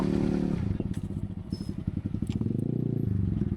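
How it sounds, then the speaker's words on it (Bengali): A motorcycle rides along a hilly route, its engine giving a close, rapid pulsing putter that dips and rises as the rider changes speed, with a low rumble carrying through to the end. "বাইকটি চলে এখন"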